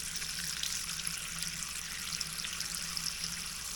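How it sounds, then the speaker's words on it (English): Cold water from a tap runs steadily over a radiator thermostat being tested on a hovercraft build, making a continuous close hiss and splatter with no pauses. "I'll put cold water to it"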